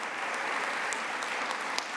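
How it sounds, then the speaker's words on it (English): An audience at a Let's Move anniversary event with First Lady Michelle Obama applauds with steady, even clapping that fills the whole moment with a few sharper claps standing out. "a round of applause"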